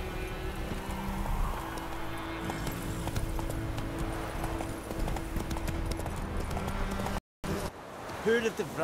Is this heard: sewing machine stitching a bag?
no